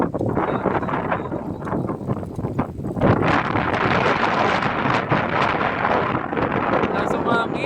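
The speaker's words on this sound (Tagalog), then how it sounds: "Lakas ng hangin." Strong wind buffets the microphone during a group mountain bike ride, a loud continuous roar with gusty surges, and people talk faintly beneath it.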